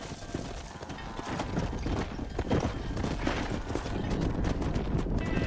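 Horse hooves clip-clop steadily in Red Dead Redemption, a close, continuous trotting rhythm over a busy outdoor game soundscape.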